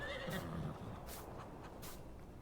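A horse in Farming Simulator 19 lets out a loud, quavering whinny at the start, then settles into a quieter snort amid faint background noise, with no talk.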